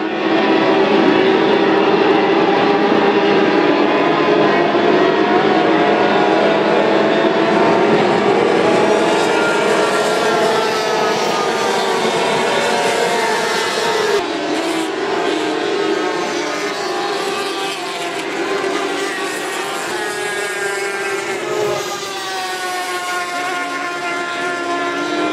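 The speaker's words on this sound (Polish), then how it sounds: "Silnik pracuje na najwyższych obrotach, wykonując ich 13 tysięcy na minutę." F500 racing powerboat engines screaming at around 13,000 rpm during a water festival race, a loud sustained roar with gradually shifting pitch as the boats speed past and turn.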